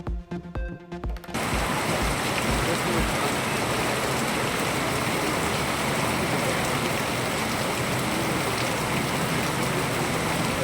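Heavy thunderstorm rain falls across Kadayanallur and the Thoothukudi district area, a dense, steady roar of downpour that sets in after a short burst of news music at the start and continues loud and unbroken.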